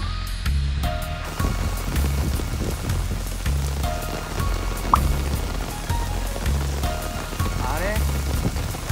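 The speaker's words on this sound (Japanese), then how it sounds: "あの雨がね降ってる" Rain falling near a mountain summit on Izu Oshima, a steady, dense patter on surfaces close around a shelter, continuing under a person talking.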